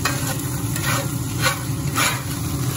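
Onion, garlic and thyme sizzle steadily in a pan as the base for gravy, a loud continuous frying hiss with occasional stirring scrapes.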